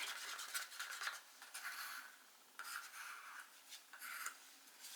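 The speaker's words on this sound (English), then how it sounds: "I'm giving them a good stir" Quiet, intermittent scraping and stirring of acrylic paint in cups with sticks, soft rasping strokes coming in short bursts with brief pauses, close and faint with no voices.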